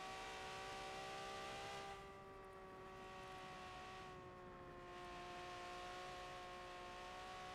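A 1995 Ferrari F50 engine drones steadily at high revs during a Forza racing game lap on an Alps course, layered whining harmonics holding constant with slight dips, fairly faint and continuous with no talk.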